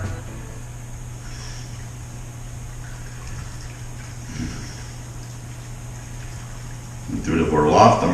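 Wort is recirculated from the mash tun during an all-grain cherry wheat beer homebrew. Water trickles softly over a low steady hum, then a louder splashing pour surges near the end, with someone talking at points.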